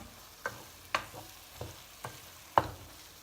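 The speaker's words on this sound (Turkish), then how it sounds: "Hafif bir karıştıracağım." A spoon lightly stirs stuffed pepper filling in a pot, making five or six soft, separate scrapes and clicks spaced about half a second apart, close and quiet, with no talking.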